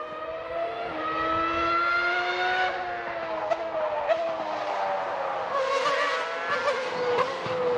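A Ferrari 412 T2 Formula 1 car's V12 engine screams at high revs, a loud, sustained whine climbing and shifting pitch with brief gear-change breaks and sharp blips, no talk over it.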